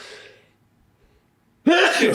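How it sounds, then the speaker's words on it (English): A single loud sneeze bursts out after a near-silent pause, preceded by faint trailing talk, close to the microphone during a studio chat show. "sneeze."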